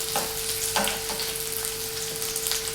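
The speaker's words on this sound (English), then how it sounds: "First add the onions and let them become translucent" Onions sizzle steadily in a hot pan, a constant close frying hiss with a few soft stirring scrapes and no talking.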